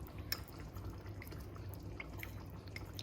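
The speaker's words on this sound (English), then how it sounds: "I'll dissolve this cornstarch now" Cornstarch being stirred into cold water in a small bowl, faint scattered drips and liquid clinks over a low background hum, alone without talk.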